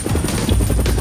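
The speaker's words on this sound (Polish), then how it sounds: "Pomoże mi mój helikopter." A helicopter with a line hooked to its landing gear flies nearby, its rotor chop pulsing through a loud, rumbling engine drone for a brief moment.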